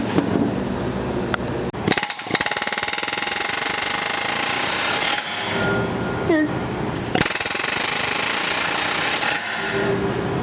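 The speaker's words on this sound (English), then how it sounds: "Air hammer." A pneumatic air hammer rattles loudly in rapid, sustained bursts, close by, working on rusty rear toe bolts of an Infiniti G37, stopping briefly between runs.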